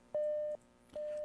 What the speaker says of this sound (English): So we could hear the Morse traffic coming in.